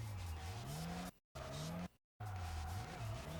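Game car in Tokyo Xtreme Racer: Drift 2 drifting with handbrake and foot brake dragged: a steady engine drone with a sliding pitch and tire squeal, cut by two brief silent gaps.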